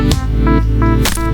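EDM breakdown built in FL Studio Mobile, with sustained layered synth chords over a steady low bass and a few soft percussive hits, loud and full throughout.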